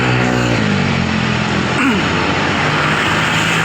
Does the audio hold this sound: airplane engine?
yes